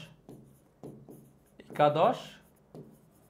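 Writing on a classroom board, with short scratching strokes and a longer rubbing scrawl, near and moderately loud, between pauses in a teacher's talk.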